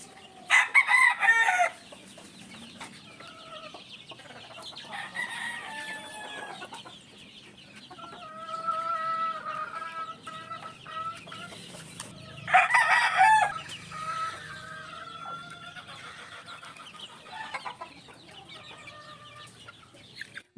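Game fowl hens cluck and a rooster crows in a farm pen, with several bursts of crowing and scattered clucking calls at moderate distance.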